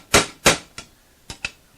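Hammer tapping sheet metal on a Volvo Amazon drive shaft tunnel, five sharp close metallic taps, two strong strikes followed by three lighter ones in an uneven rhythm.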